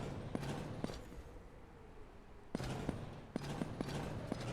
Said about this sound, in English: Dear God, the explosion.